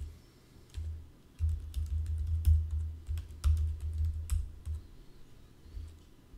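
Password typed on a computer keyboard: a quick run of light key clicks and taps, close and fairly quiet, with a short pause near the start and no talk.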